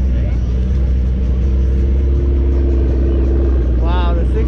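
A McLaren 650 at a Cars and Coffee meet, its engine giving a steady, loud, close rumble throughout, with a brief rising tone near the end.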